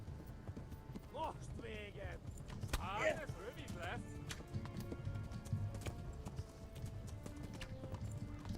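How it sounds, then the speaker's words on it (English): Horse hooves clip-clop in the video game Kingdom Come: Deliverance, a steady trotting patter under continuous background game sound while someone talks over it. "I feel like this horse should be much faster than this."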